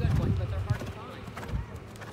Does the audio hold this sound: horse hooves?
yes